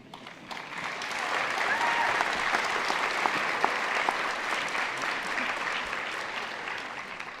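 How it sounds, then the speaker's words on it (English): An audience at a winter graduation ceremony for a School of Health and Society breaks into sustained applause, a dense crowd-wide clapping that swells quickly and holds steady for several seconds, heard from within the hall. "I think we should really do a large clap on everyone"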